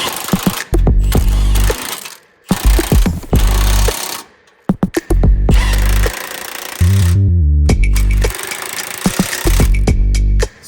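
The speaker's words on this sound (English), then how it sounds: "now it's time to start tightening up all the nuts and bolts, and we're gonna start with the outer ones on the front bumper" Nuts and bolts on a Jeep Wrangler's steel front bumper are driven tight with a power impact tool, loud repeated rattling bursts of a few seconds each, separated by short pauses.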